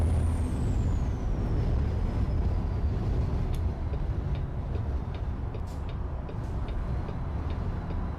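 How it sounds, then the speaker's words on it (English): Truck engine braking in American Truck Simulator, a steady low rumble that fills the whole stretch, with a faint falling whine at the start and scattered light ticks and hisses above it. "They still be doing that engine braking."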